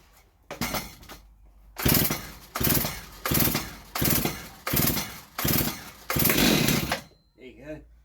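Stihl MS290 chainsaw running at fast idle after a carburettor rebuild, loud close engine revving in repeated bursts with brief dips between, ending in short sputters.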